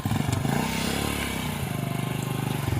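A motorcycle engine runs close by, a loud steady chugging idle with a fast regular pulse that rises and falls slightly, no speech over it.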